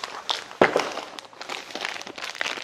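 Plastic packaging crinkles and rustles continuously as groceries for a new home are unpacked, with a sharper crackle near the start and soft handling noises throughout, close and fairly quiet.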